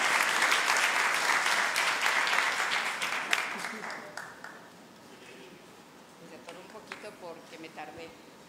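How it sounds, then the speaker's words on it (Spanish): Audience applause at a business opportunity meeting, loud broadband clapping for the first four seconds that thins into scattered, fading claps with some voices underneath. "Fuerte el aplauso."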